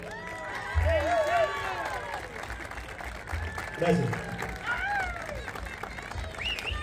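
An audience at a folk music show applauds for a guitarist, scattered clapping and cheering rising and falling in bursts while someone speaks briefly over it.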